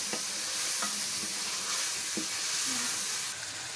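Masala sizzles and crackles steadily in hot oil in a pan while being stirred for a bottle gourd (lauki) curry, a continuous close frying hiss with small scraping stirs and no talking.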